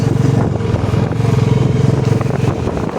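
A Bullet motorcycle engine thumps steadily and loudly close by, its low rhythmic chugging running unbroken throughout with some rattling clatter on top.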